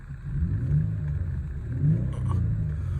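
A 2003 Jaguar XJ6 3.0 V6 petrol automatic revs when the throttle is pressed, giving a steady, fairly loud low rumble that swells twice over about three seconds with no talking.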